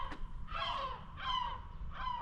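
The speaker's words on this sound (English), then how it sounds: "wait for the seagulls to stop interrupting" Seagulls at the beach give three harsh, drawn-out calls in quick succession, loud and fairly close, over a low steady wind-like background.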